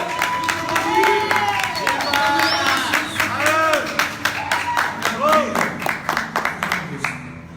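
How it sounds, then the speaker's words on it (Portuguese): A small gathering claps in honour of Our Lady after prayers, scattered irregular claps that grow sparser, mixed with voices talking and calling out over it. "Vamos aplaudir Nossa Senhora."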